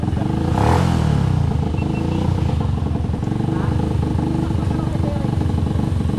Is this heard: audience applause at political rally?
no